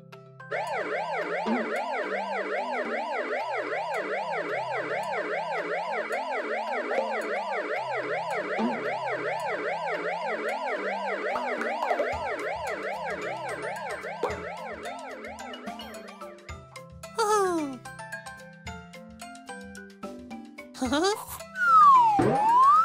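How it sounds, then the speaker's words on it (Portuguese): An ambulance siren wails in a loud, steady rising-and-falling cycle, repeating for many seconds before giving way to short cartoonish sliding boing effects, as in a children's learning cartoon. "Uma ambulância."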